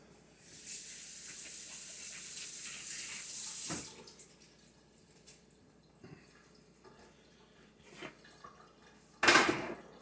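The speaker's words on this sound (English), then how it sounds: "Allow me to wash my hands." A kitchen sink tap runs steadily for about three seconds while hands are washed during home bacon-making. The water cuts off, followed by a few faint clinks and one sharp knock near the end.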